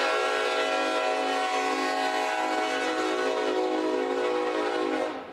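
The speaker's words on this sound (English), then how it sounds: "that train, that blaring sound, such a reminder of what happened there" A train horn blares in one long sustained, loud tonal blast that holds steady for about five seconds before cutting off, with no voices over it.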